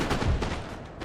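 A 6-pounder cannon firing in Napoleon: Total War, a dull heavy boom followed by a rumbling tail with a further distant report, close and loud.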